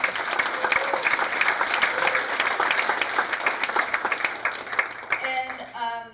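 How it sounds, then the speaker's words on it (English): A round of applause for a mayor at a mayoral installation ceremony, with loud, crisp clapping from a hall audience running steadily and tapering near the end as a voice begins. "let's give Mayor Go another round of applause"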